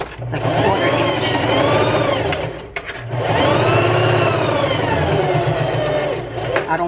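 A sewing machine stitches a fabric seam a quarter inch from the edge, its motor whirring loud and close in two long runs separated by a brief pause.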